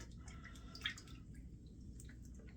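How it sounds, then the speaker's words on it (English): Small drops of water fall onto a puck of Ariana & Evans L'orange Verte shave soap, giving one faint, brief plink amid quiet background hiss. "I'm just going to Throw a little water on there, just a little few drops there"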